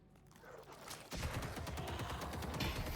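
Graves's gun attacks in a video game, a rapid burst of gunfire that breaks in abruptly after a quieter lead-in and continues as dense rattling shots, fairly faint and alone.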